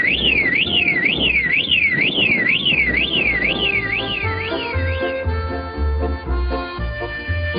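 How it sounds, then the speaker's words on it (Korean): A Pyeonghwa Hwiparam passenger car anti-theft alarm sounds loudly, rising and falling in a rapid warbling siren that gives way to a steady tone, with music playing underneath. "차의 운전사나 주인이 아닌 사람이 열쇠를 만들어 가지고 와서 문을 열려고 하면 차 도난 경보 신호가 요란하게 울립니다."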